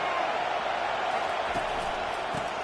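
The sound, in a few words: stadium crowd noise at a football game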